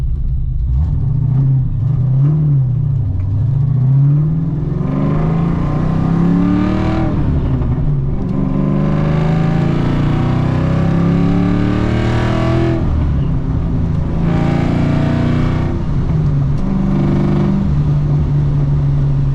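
A Foxbody Mustang with a freshly replaced transmission drives on a road and shifts up through its gears, a loud steady engine drone that rises in pitch, drops at each shift and climbs again.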